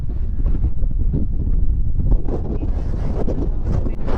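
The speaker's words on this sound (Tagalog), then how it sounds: "Lakas ng hangin." Strong wind buffets the microphone in loud, continuous, rumbling gusts, with no voices heard.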